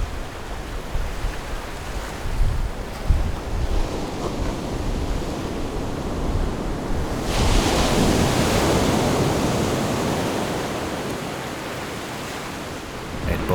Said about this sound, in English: Again and again, the waves push water into the opening, resulting in a geyser-like eruption.